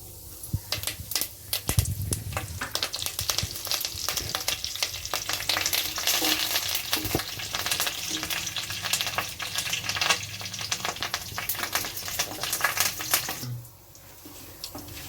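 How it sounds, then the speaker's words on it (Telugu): Mustard seeds, spices and curry leaves sizzle and crackle steadily in hot oil in a wok for an egg and tomato curry, a close, continuous frying hiss with scattered pops and a brief stir near the end. "ఆయిల్ వేడైన తర్వాత పోపు దినుసులు వేయాలి"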